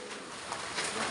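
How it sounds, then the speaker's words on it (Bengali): A brief stretch of gathered pigeons cooing quietly nearby, with soft continuous murmuring and no talk. "দেখ সবগুলো পায়রা এসে গেছে"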